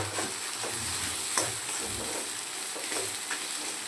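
Corn zunka being stirred in a pan on full flame, a continuous close sizzle of frying with scraping stirs and occasional sharp spatula clicks.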